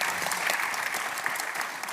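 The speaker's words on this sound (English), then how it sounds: "we may have a round of applause for it" Brief, steady applause from an audience at a climate justice talk in The Hague, a close, even patter of many hands with no voices over it.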